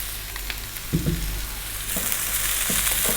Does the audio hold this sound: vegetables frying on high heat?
yes